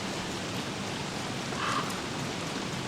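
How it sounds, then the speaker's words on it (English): Steady rain falls in the survival game Don't Starve Together, a soft continuous hiss of droplets with no talking. "I'm just astounded at how long this rain has lasted."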